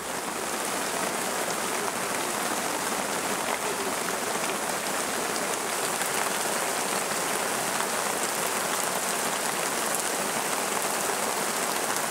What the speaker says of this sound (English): a downpour unexpectedly occurs